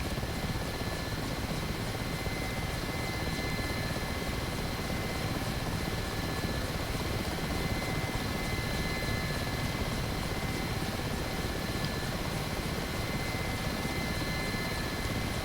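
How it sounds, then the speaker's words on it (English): A Mi-8 helicopter in DCS World flies with a constant, loud rotor and turbine drone that holds steady and unbroken, with no voices. "Stay with me, helicopter."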